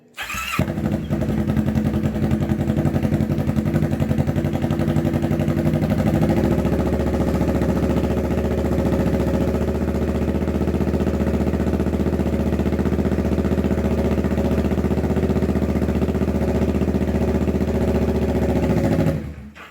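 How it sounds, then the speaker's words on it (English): A motorcycle fitted with a newly installed lithium battery cranks briefly and fires up, then settles into a loud, steady, close-up idle that runs uninterrupted until the end. "we're going to see what happens when we basically cut the bike on and start it up"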